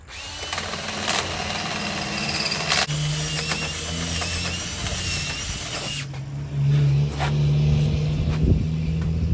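A power drill runs with a drill bit in a workshop rebuilding the engine of a 1984 Freightliner cabover truck, its steady whine mixed with ratcheting and mechanical clatter, loud and continuous with a change in pitch partway through.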